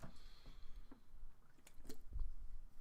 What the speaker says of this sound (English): Sorry about the slurping part.